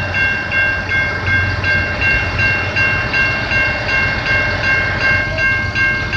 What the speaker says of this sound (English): we got a CN train coming